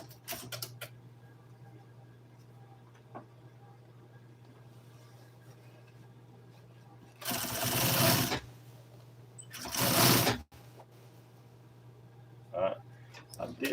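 An upholstery sewing machine stitches an F-100 seat cover in two loud, close bursts of rapid needle chatter separated by a pause, with quieter handling noises and a steady low hum around them.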